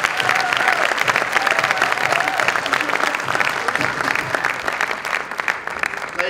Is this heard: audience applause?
yes